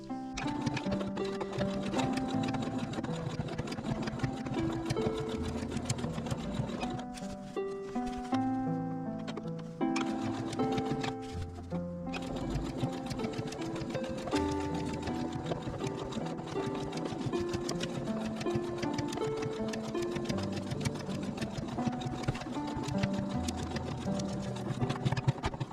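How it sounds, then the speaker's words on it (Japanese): Sewing machine stitching two pieces of stretch fabric placed right sides together, 5 mm in from the edge, a fast steady mechanical whir and tapping needle rhythm with brief pauses in the middle. "中表に合わせて、 ぐっと5ミリのところを縫っていきます"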